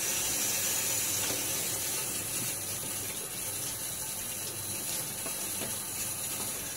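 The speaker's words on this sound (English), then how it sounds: "Get my face wet again." Water runs from a tap and splashes as a face is wetted before shaving, a steady close-up rush of faucet flow with light splashing throughout, no voices.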